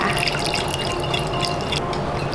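Plain water poured into a chocolate cake batter of egg yolks and oil, a short steady trickling splash, close and continuous.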